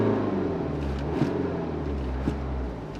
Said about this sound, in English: I'll just rev the car to show you guys how the RPM gauge works.